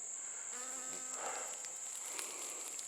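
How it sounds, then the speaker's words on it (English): A bee buzzes near passion fruit vines outdoors, a faint, steady hum lasting throughout with a brief swell in the middle, over a constant high insect whine in the background. "There's a bee."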